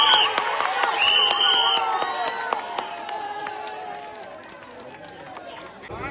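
A crowd at a tug of war final in Bahrain claps, cheers and chatters loudly. Sharp, scattered hand claps ring out over a dense wash of voices that slowly settles toward the end.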